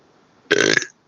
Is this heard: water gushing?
no